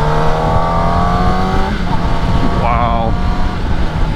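Motorcycle engine while riding a new sport bike with a factory quick shifter, a loud steady drone with rising revs and an audible gear change partway, people talking over it.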